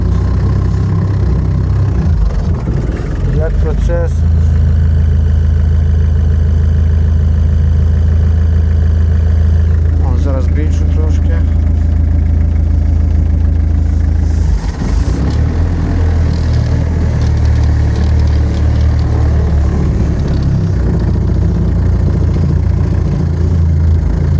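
A homemade motor cultivator's engine runs steadily and loudly throughout, a continuous low chugging drone with a few brief rattling surges and no talking.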